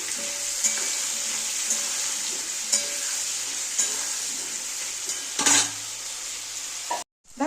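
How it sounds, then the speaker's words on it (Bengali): Potato and pointed gourd pieces fry in oil in a pan with salt and turmeric, a steady close sizzle with occasional stirring scrapes and clinks, then a sudden cutoff near the end. "এবারে ভালো করে ভেজে নেব।"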